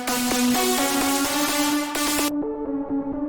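Synth lead in Ableton with its auto filter switched off, a bright, unfiltered, buzzy melodic line of short repeated notes over a sustained tone, playing alone at moderate level.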